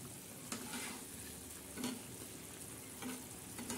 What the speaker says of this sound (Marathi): मस्त अशी उकळत आहे आणि शिजत आहे वांगे आणि टमाटे आणि बटाटे